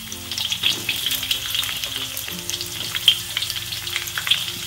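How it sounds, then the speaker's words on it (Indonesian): Onion and garlic sauté in hot oil for street-style noodles, giving a steady, close crackling sizzle with the light scrape of stirring throughout and no talk. "kita panaskan minyak dan kita tumis ya bawang bombay"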